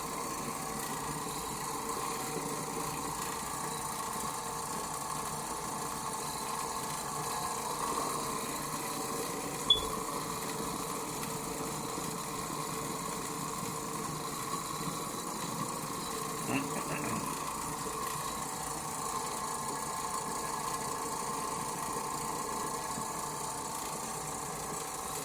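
An Oreck Orbiter floor machine scrubbing carpet gives a steady, droning motor hum with a whirring, rumbling texture that stays constant throughout and sits close.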